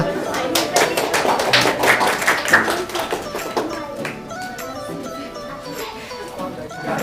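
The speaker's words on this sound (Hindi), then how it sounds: "एक बार जोरदार तालियां।" Clapping from a school audience at a prize distribution, loud and busy at first and then thinning out into scattered claps, while a voice talks over it.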